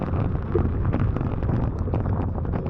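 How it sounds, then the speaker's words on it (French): Strong wind roars and buffets the microphone in a continuous, dense rush with no voices, gusting slightly but never letting up. "C'est le vent qui nous pousse vers l'arrière!"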